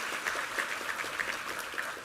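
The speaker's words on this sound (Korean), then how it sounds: "우리 하나님께 감사와 영광의 박수 올려드리겠습니다" A church congregation applauding during a sermon service: an even, sustained wash of clapping from many hands, moderately distant and somewhat soft, with no talking over it.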